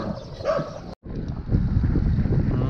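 A dog barks at a passing cyclist on a road, heard over steady wind noise from the rider's microphone, with a brief dropout partway through.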